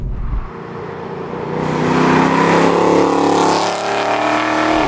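A straight-piped Renntech-tuned Mercedes-AMG CLK63 Black Series V8 idles with a deep, lumpy burble, then swells into a loud, sustained, raspy drone close by, with no one speaking.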